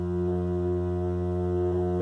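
Resonator of an Olegtron 4060 synthesizer modulated by an LFO, a steady droning harmonic tone with a faint rhythmic pulsing, moderately loud and alone.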